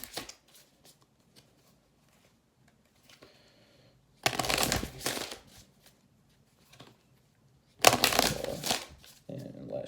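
Oracle cards are shuffled in two loud, rustling bursts with quiet stretches and faint handling clicks between them, close to the listener.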